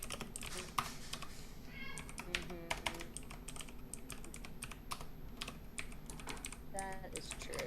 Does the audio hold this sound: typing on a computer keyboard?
yes